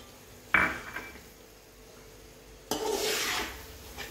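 Satyanarayan prasad being mixed with cardamom powder in a pan: two bursts of scraping and clattering, a short one followed by a longer, steadier rasping stir, close and moderately loud with no talk.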